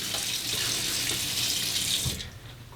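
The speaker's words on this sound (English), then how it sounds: "Splash the hot water on." Hot water runs from a tap at a sink before a straight razor shave, a steady close hiss and splash that cuts off abruptly near the end, with no voices.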